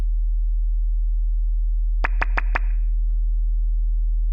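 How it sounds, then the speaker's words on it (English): A tone generator plays a steady 40 hertz tone through an old lo-fi speaker, a continuous low hum at a constant level, with a few sharp clicks or taps partway through. "let me do a 40 hertz"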